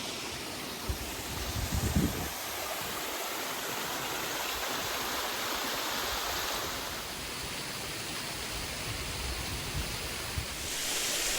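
A waterfall at Black Hill roars with a steady, dense rush of falling water, heard from directly underneath, close and constant, with a brief louder surge near the start.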